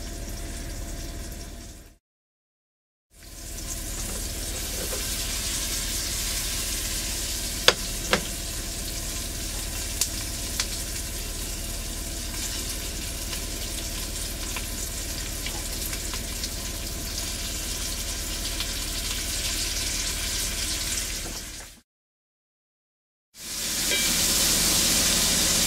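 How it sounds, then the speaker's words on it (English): Meat and onions fry in a pot for cabbage soup, a steady loud sizzle and hiss that runs on continuously with a few small pops, broken by two short silent gaps. "I'm gonna throw the meat in there."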